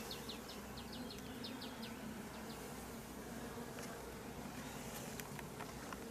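Honey bees swarm around a beehive stacked with honey supers during a summer harvest, giving a faint, steady buzzing hum with a few brief high chirps above it and no voices.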